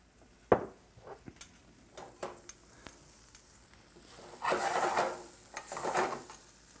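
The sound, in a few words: onions sautéing in olive oil in a skillet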